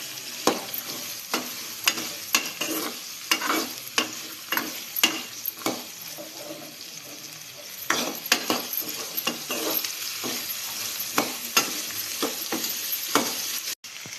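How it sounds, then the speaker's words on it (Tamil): Pirandai (adamant creeper) is stirred and fried in a pan for thuvaiyal, with a steady close sizzle broken by repeated spatula scrapes and taps and no voices. "அடுத்து வதக்கி வச்ச பிரண்டையை சேர்த்துக்கலாம். இதை நல்லா மிக்ஸ் பண்ணி விடலாம்."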